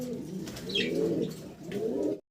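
Pigeons coo softly and close by in low, rolling, throaty calls that swell and fade over a couple of seconds, with no voices.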